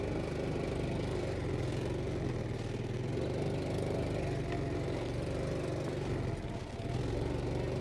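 A small boat's engine running on the Perfume River during flood season, a continuous even drone with a low throbbing hum that holds steady throughout, loud and close with no talk over it.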